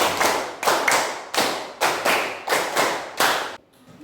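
A classroom of students claps together in a counted rhythm, several loud, sharp bursts of unison clapping spaced at a steady beat, closing in a short quiet pause.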